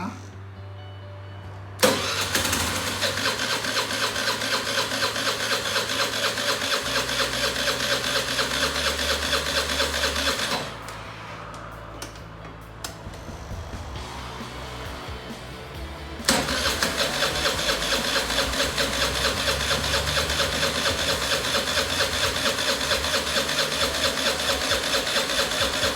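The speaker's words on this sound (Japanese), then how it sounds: "プラグ交換終わったのでエンジンかけてみます。" Suzuki Address V50 scooter left standing over a year, its engine cranked and started after a spark plug change, turning over then running at a steady buzzing idle, cutting out briefly and catching again, close by.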